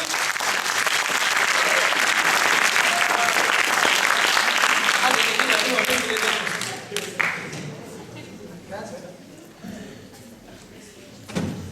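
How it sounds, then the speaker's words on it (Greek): Loud group applause for a classmate at a Greek gathering, steady for about six seconds, then tapering into scattered claps, murmuring voices and a few knocks. "Ένα χειροκρότημα για τον Γιάννη"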